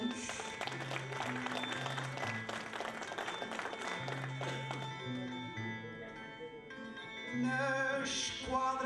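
An audience at a São João cantoria in Lowell, Massachusetts claps steadily in sustained applause for the Azores, a dense continuous patter with a brief surge near the end.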